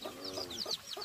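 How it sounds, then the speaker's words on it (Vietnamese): Close, steady clucking from a native chicken, a rapid run of short throaty calls with a few higher rising notes, heard alone without talking. "Đó là vua gà ta rồi."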